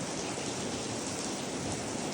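Heavy rain pours down steadily during a storm in Turkey, a dense, even hiss of falling water with no break or other sound, fairly soft and constant throughout.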